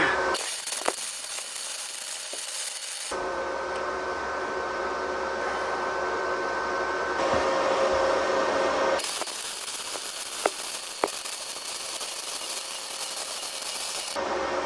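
Arc welding on a Mustang II crossmember being fitted to a 1961 Mercury Comet: two long crackling, buzzing weld bursts close by, separated by a quieter steadier stretch, with a few sharp metallic clicks.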